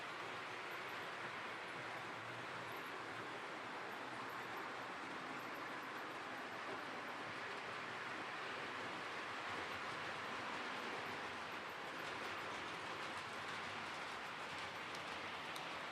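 A small model train runs steadily around a track, a soft continuous rumble and clatter with faint clicks, no voices.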